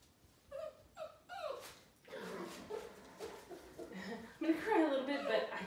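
Mowgli, a dog under aptitude evaluation, gives several short high whimpers, then quieter whines continue beneath a person talking and chuckling nearby.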